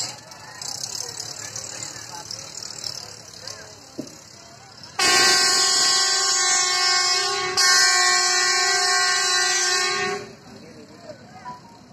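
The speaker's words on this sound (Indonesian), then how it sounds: "setelah tadi kita menyaksikan cara kerja MTT Placer ini" A Plasser MTT track tamping machine working on a railway line near a station, with rumbling machinery, then a loud sustained multi-tone horn blast that briefly breaks and resumes for about five seconds before fading back to background rumble.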